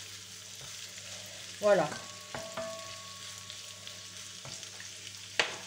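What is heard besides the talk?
meat and onion frying skin-side down for paella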